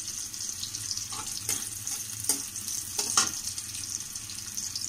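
Bay leaf dropped into hot oil for a Bengali fish-belly and bitter gourd curry gives a soft, close sizzle with a few brief crackles and clinks over a steady hiss, no voices.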